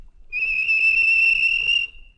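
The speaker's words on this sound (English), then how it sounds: "the whistle blew, and James thought they'd better go." A steam locomotive whistle in the Trainz railway simulator gives one steady, loud, high blast of about a second and a half, with no voices over it.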